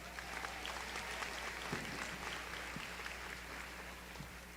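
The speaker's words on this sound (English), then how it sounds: "You guys deserve a round of applause." A graduation-ceremony audience applauds at a distance, a thin, steady wash of many hands clapping at low level with a faint hum beneath and no talk over it.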